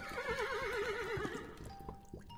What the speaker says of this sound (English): Do you hear it, Miss Appleton? Horses, growling stomachs. Here they come